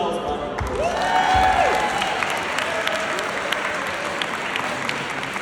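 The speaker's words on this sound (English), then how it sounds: "Give yourselves a round of applause." Guests at a dinner clap together in a dense, lively burst with some cheering, while a few whistles or voices rise above the crowd noise.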